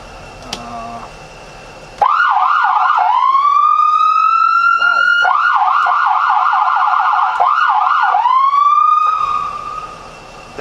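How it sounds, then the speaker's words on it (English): A loud emergency siren on a 2009 Sprinter van cycles between a fast yelping warble and a long rising-falling wail, very close and piercing, starting after a brief quiet moment. "Let me just do the siren real quick too"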